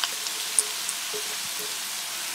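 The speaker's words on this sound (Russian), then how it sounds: "Сейчас мы подогрели уже нашу сковородку и выкладываем лук с морковкой" Chopped onion and carrot frying in a preheated pan for cucumber caviar, giving a close, steady hiss of sizzling with a few small pops and crackles.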